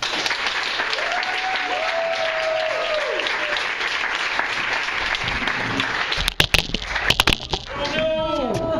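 Audience applause welcoming an author to a reading, a sustained wash of many hands clapping, fairly loud and even, with voices cutting through near the end as the clapping fades.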